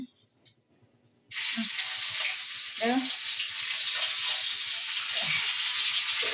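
Crab curry cooking in a pan at home, a loud steady sizzle and frying hiss that starts abruptly and carries on without a break, with a few faint clinks and brief voice fragments underneath.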